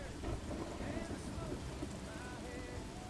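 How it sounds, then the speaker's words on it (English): Wind and rain lash a mountain summit on the Hardergrat ridge in Switzerland, a steady, dense roar of gusting wind and pelting rain with low rumbling underneath, close and continuous throughout with no voices. "The wind and rain are relentless"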